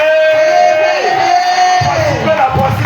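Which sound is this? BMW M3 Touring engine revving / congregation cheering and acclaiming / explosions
congregation cheering and acclaiming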